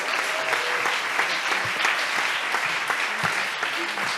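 Loud, sustained applause from an audience at a startup awards ceremony, a dense wash of clapping with a few voices and cheers underneath.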